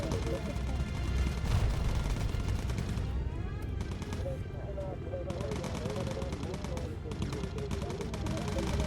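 Rapid machine-gun bursts rattle continuously in the Bomber Crew USAAF bomber game under a steady roar of aircraft engines, with someone talking over the dense, loud gunfire.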